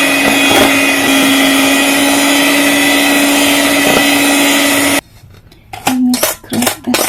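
An electric mixer whirs loudly and steadily as it beats sugar into a stovetop lemon cake batter, then cuts off and gives way to a few short bursts and clattering bowl sounds.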